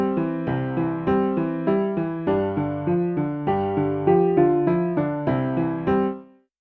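A synthesized bass line made in SunVox plays a steady run of evenly spaced plucked notes in 5/4 time. Each note decays quickly before the next one starts, and the notes shift in pitch across two measures with no voices over them.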